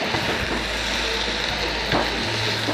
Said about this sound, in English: Go ahead and stir them up.